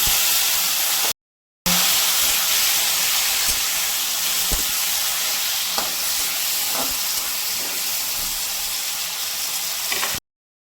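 Green beans fry in hot oil in a pan for a black cumin fish curry, a loud continuous close sizzle and hiss with a few faint stirring clinks, briefly cut by a gap near the start.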